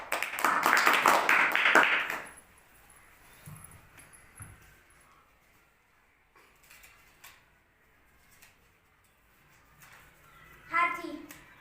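A group of children in a classroom lesson claps together in a quick flurry of a couple of seconds, fairly close, then things go quiet with faint shuffling and a voice speaking near the end.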